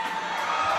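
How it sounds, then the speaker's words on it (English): A crowd at a pro basketball game in Canada cheers loudly in a brief, sustained roar with high-pitched shouts and whoops. "The crowd started to cheer."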